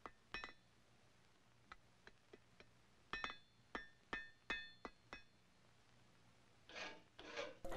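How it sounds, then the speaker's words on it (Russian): A forged flintlock mainspring is worked by hand, giving a series of sharp, separate rasping strokes with short pauses between them, close and fairly quiet, ending with a couple of longer scraping passes. "дефекты от ковки могут привести к поломке пружины, поэтому ее нужно отполировать"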